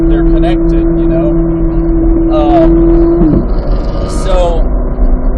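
Corvette Z06 engine droning steadily at Thunderhill race track during a high-performance driving session, a sustained tonal hum with a pitch drop midway, faint chirps above.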